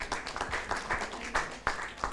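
A conference audience at a university gathering claps after a set of presentations, a faint, sparse scattering of hands with a few sharper individual claps standing out.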